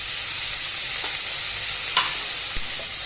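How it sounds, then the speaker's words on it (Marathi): Broccoli tipped into a hot pan over medium-low gas and stirred, a continuous soft sizzle with a few light scraping clicks as the florets are tossed. "आणि आता याच्यामध्ये आपल्याला ब्रोकोली टाकून घ्यायची."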